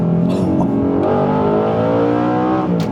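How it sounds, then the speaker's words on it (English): A manual Audi R8 with 415 horsepower and a loud Quicksilver exhaust revs hard, its deep engine note climbing and holding close and loud, with a couple of sharp crackles layered on top. "I'd also forgotten just how loud that Quicksilver exhaust is."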